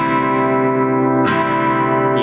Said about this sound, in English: this is what it sounds like if you play the top string